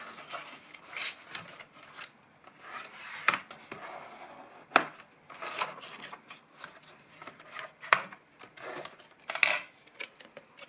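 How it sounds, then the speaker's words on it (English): Paper is burnished along a sharp crease on a handmade jewelry gift box, giving quiet, irregular scraping and rubbing strokes with scattered small ticks and taps, close up and without speech. "we burnish. We make sure that the crease is very sharp."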